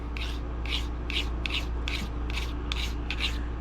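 A traditional broadhead is stroked across the 600 side of a sharpening stone, a rhythmic series of about nine short, gritty scraping passes, close and steady, over a low background hum.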